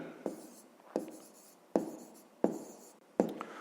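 Pen or chalk strokes writing out a fifth-grade math solution, five distinct sharp scratching bursts spaced at an uneven rhythm, close and clear with no voices.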